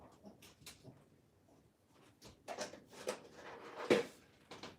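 A puppy whimpers and snuffles indoors in short, faint bursts, with a slightly louder whine near the end.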